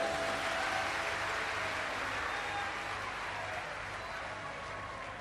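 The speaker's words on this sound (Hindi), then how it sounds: "एक बार जोरदार ताली बजाओ।" Sustained applause from an audience at a Shiv Mahapuran katha, a dense even wash of clapping at moderate distance running steadily throughout without a break.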